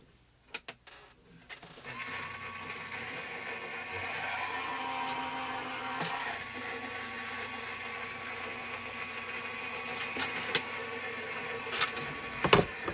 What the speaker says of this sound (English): you're going to hear some noise, and that's just the die cutting machine that's rolling through the rollers